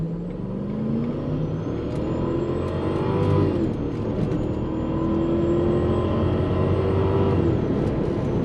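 A Lexus LS400 V8 accelerates hard in power mode, the engine note climbing steadily with a shift partway through, then pulling up again loudly from inside the car with no talking.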